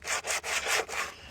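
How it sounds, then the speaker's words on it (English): Rapid back-and-forth scraping of sandpaper on an old steel Chevy truck wheel, about six quick rhythmic strokes, close and fairly quiet. "And what I'm doing is I'm just sanding"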